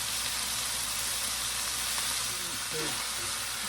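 Finely diced onions and meat sizzle steadily in a frying pan, a dense continuous hiss with faint stirring scrapes and a brief voice underneath.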